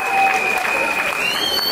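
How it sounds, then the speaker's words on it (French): Wedding guests at a civil marriage applaud the couple, a dense crowd clapping that holds steady and close throughout, with a voice speaking over it. "Lorsque le couple se lève, on applaudit, mesdames, messieurs."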